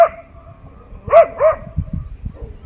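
Dog barking in a few short, strong yelps and barks, close by, then a few lower, softer bursts, in a tense standoff with a dinosaur toy.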